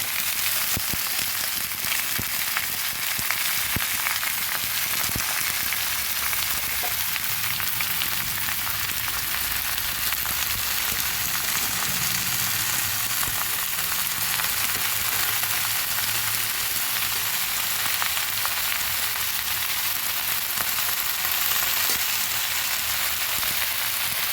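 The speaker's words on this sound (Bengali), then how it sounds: "এবার আস্তে আস্তে পুঁই শাকগুলো দিয়ে দিচ্ছি।" Malabar spinach sizzles and fries in a pan with fish head, Bengali wedding-style, a dense continuous crackling hiss that stays loud and even throughout with no voices.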